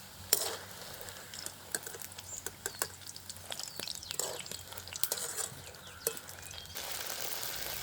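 Vettu palakaram, a traditional Tamil snack, fries in hot oil in a village kitchen with a steady crackling patter. Sharp pops and spits are scattered throughout.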